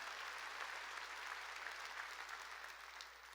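A church congregation applauds with dense, steady clapping that tapers off slightly toward the end.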